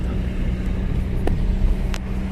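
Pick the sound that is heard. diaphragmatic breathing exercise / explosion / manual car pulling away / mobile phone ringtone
manual car pulling away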